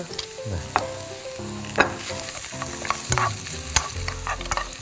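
Ginger, green onion and onion stir-fried in a pan, with steady sizzling and repeated sharp scrapes and clacks of a utensil against the pan, close and fairly loud, no talking.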